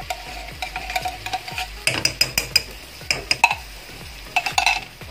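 Corned beef spaghetti stirred in a pan, a spoon knocking and scraping in a quick irregular rhythm of loud, close clinks over a faint sizzle.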